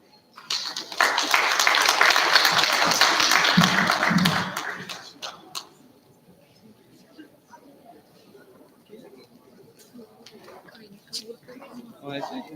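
Clapping for the runner-up team at a government science and technology event, a hearty burst of applause for roughly four seconds that fades out, followed by quiet room noise with faint talk.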